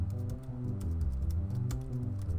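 Sustained low-cutoff GarageBand synth with full decay and room ambience, a dark, warm layered chord that pulses with repeated notes, fairly quiet and with no voices.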